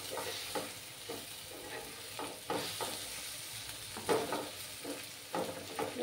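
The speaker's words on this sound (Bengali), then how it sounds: "আর 1 চামচ কাশ্মীরি লঙ্কার গুঁড়ো দিলাম। দিয়ে মশলাটাকে ভালো করে কষিয়ে নেব।" A spice masala with Kashmiri chili powder sautés over low flame in a pan, a soft steady sizzle broken by repeated scraping stirs from a spoon, close and fairly quiet.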